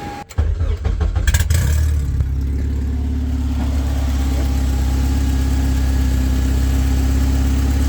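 Car with newly installed K-Tuned shifter cables cranking and catching, then settling into a loud steady idle close by, a deep continuous rumble with no talk over it.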